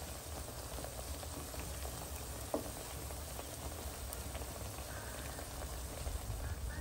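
Plantains fry in hot oil, a soft, steady bubbling sizzle heard close but quietly, continuous throughout with no talking.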